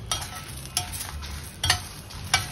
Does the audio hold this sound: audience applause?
no